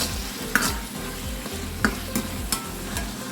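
Squid sautéing in a pan with tomatoes, a steady close sizzle broken by several scraping stirs of a utensil against the pan, no voices.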